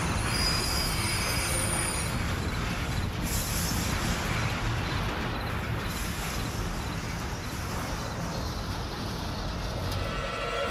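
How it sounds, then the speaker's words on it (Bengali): A speeding train roars past with steady rail rumble and high wheel squeal, a continuous loud sound effect in a Bengali horror drama, with no voices. "দুটো ট্রেন দুদিক দিয়ে ছুটে আসছে প্রচন্ড জোরে"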